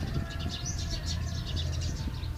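Birds call and chirp at a mini zoo bird market, steady overlapping high tweets over a low background murmur throughout.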